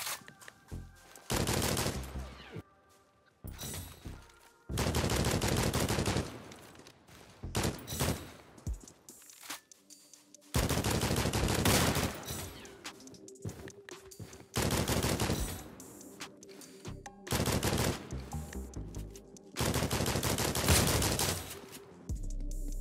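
Bursts of Scar rifle fire in the Roblox-style shooter Criminality, loud sustained volleys of several seconds each separated by short quiet gaps, repeated about seven times with no talking.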